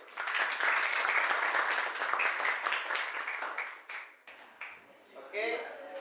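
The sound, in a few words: audience applause for group 1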